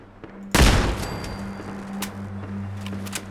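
Gunners firing in a Fallout game, a sudden loud burst of gunfire followed by a few scattered shots and a lingering hum.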